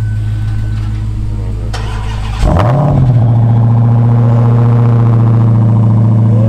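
A Dodge Hellcat at a car meet cranks and fires up, the starter whirring before the engine bursts to life with a loud rev, then settles into a heavy steady idle; voices are heard around it.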